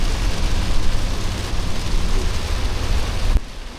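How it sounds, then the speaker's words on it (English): Heavy rain pounds on a car during a drive home across big bridges in the Outer Banks, a dense, loud, steady hiss with road rumble underneath. The roar cuts down sharply just before the end, and nobody speaks. "It rained so hard for the majority of our trip home."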